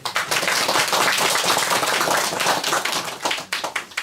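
A village gathering crowd in Hongdong-myeon, South Korea, claps loudly and continuously for several seconds, then the applause thins into a few scattered claps before fading.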